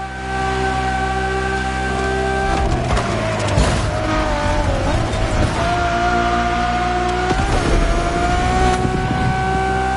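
Ferrari Enzo in the racing game The Crew Motorfest, a loud, sustained engine note that rises and shifts through revs, with brief tyre screeches and gear changes, no talk over it.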